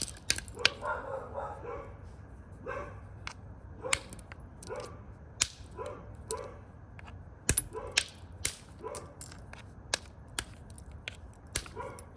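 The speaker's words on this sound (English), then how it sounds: "Dogs are going crazy." Dogs bark repeatedly in short yips at a distance outdoors, mixed with sharp clicking strikes of stone being knapped nearby.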